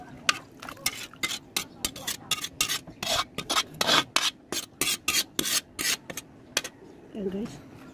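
Sotanghon noodles are stirred in a pan with quick, rhythmic scraping strokes, loud and close, over a soft sizzle, then the strokes stop near the end as a voice briefly speaks.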